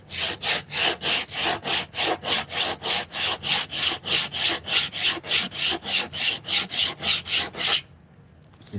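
Hand tool working a wooden mallet head, shaping the chamfered corners: about two dozen rhythmic, evenly paced rasping strokes, close and clear, then a sudden stop into quiet.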